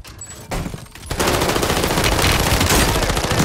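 Loud automatic gunfire from a gun in a video game: a few scattered shots at first, then a sustained rapid burst filling the rest of the clip, no voices.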